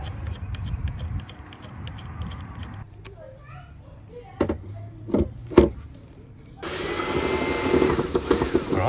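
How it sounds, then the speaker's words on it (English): A power drill whirs steadily and loudly near the end while drilling holes in a car body, after a stretch of low rumbling and a few sharp knocks and clatters. "Every day is a good day for drilling holes in your car."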